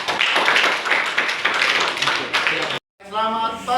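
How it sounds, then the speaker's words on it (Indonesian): A classroom of students claps for a classmate with dense, lively applause that runs for nearly three seconds. It cuts off abruptly, and a voice speaks briefly afterward. "Tepuk tangan dulu Muna."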